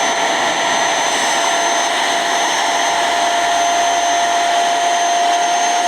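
A Kiwi upholstery washing machine runs over a stained sofa, giving a loud, steady, high-pitched suction whine with a constant tone throughout and no talking.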